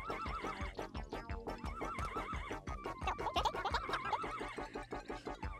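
A horse neighs and whinnies repeatedly in the video game Miitopia, its calls riding over a busy, continuous game soundtrack with rhythmic percussive beats throughout.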